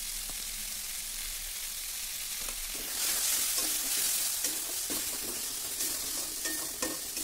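Boiled greens with tomato, onion and two spoons of mustard paste fry and get stirred in a pan, a close, steady sizzle with a louder burst of hissing partway through and light scraping strokes.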